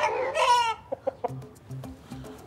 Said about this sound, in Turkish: Horoz konuştu ya bayağı bildiğin anne dedi bu horoz yani şimdi